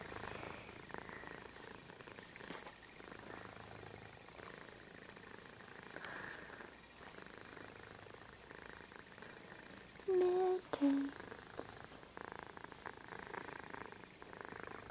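A cat purrs while being petted and having its ears and chin rubbed, a low steady rumble running through the whole stretch, with a short brighter squeak or chirp near the end and no speech over it.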